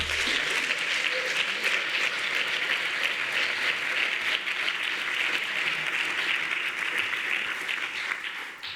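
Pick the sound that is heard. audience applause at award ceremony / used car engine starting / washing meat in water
audience applause at award ceremony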